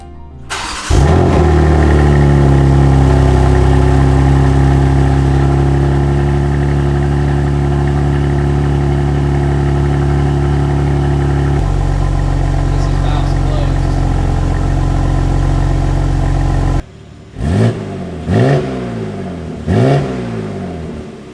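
A BMW G80 M3 fitted with PLM downpipes starts, then idles loudly and steadily for a long stretch before cutting off, followed by three sharp revs close to the microphone.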